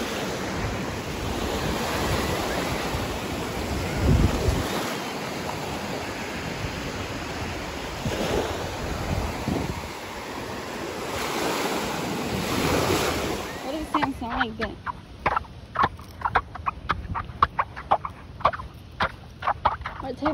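Ocean surf washing onto a beach in Destin, Florida, a broad steady roar of waves with wind buffeting the microphone, giving way near the end to choppier, broken sounds.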